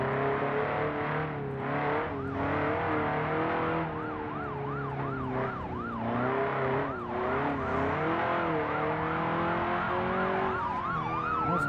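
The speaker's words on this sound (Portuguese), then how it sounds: "Nossa, dois carros da polícia aqui." Police car sirens in the video game BeamNG.drive wail with rising and falling cycles over a steady engine drone, loud and close, overlapping as more than one siren sounds.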